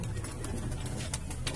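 Pigeons kept by a breeder of Laldum red-tail high flyers coo softly and continuously amid a dense, steady bed of ambient noise, with brief brighter calls rising now and then.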